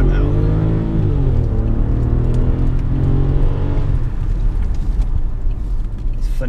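A BMW accelerating hard, its engine note climbing steadily in a loud, close cabin-heard roar that fades into a broad rushing rumble, with a voice speaking over it.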